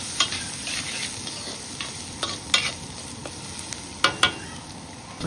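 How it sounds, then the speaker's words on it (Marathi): Garlic and onion sautéing in a pan until reddish, a soft continuous sizzle with scattered sharp clinks and scrapes of a spatula stirring, the loudest near the end. "छानपैकी असा लालसर होईपर्यंत चांगला परतून घ्यायचा लसूण आणि कांदा"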